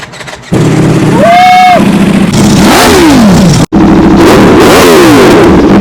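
Italian superbike engine, a Ducati V4 SP or Aprilia RSV4 1100 with a dry clutch, revving loud and close in rising and falling bursts, with one brief break in the sound.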